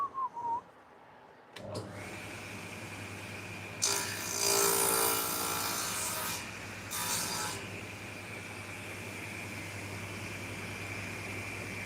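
A wooden piece has its end sawn off in a home woodworking workshop, a loud burst of cutting noise for about three seconds followed by a shorter second burst, over a steady background hum.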